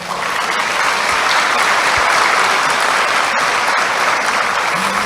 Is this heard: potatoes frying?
no